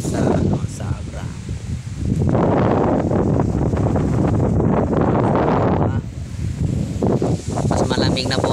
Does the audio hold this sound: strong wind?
yes